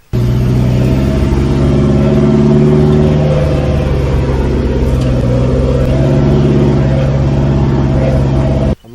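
Deep, rumbling stainless steel exhaust drone from a Toyota Hilux 3.0 D4D pickup engine pulling under load, steady and close, with a slight rise and fall in pitch.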